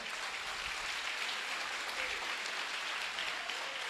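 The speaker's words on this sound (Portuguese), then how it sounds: "Pode aplaudir ao Senhor" A church congregation applauds the Lord, a steady, even wash of clapping heard at a distance and fairly faint.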